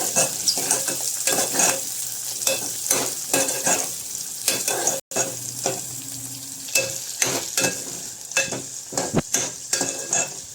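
Curry leaves, dried red chilies and other ingredients frying in a pan while being stirred, with a constant crackling sizzle and repeated scraping strokes of a spoon against the pan, close and busy, no voices.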